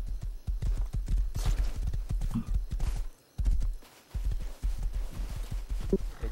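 Hooves of a horse clip-clop in a quick, steady rhythm, loud and close, broken by a short pause before the hoofbeats resume, with a faint whinny-like note near the end.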